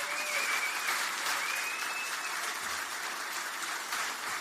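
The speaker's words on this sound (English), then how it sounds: "give them a round of applause." A crowd at an eve-of-poll political rally in Staffordshire applauds steadily, a dense wash of clapping heard from some distance, with faint whistles and cheers rising above it.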